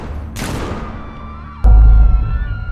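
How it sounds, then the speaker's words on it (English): Sudden gunshots ring out in a crowded old Delhi bazaar lined with metal-shuttered shops: a sharp burst early on, then a heavy, booming low blast that lingers and echoes for about a second. "And then, sudden gunshots echoed."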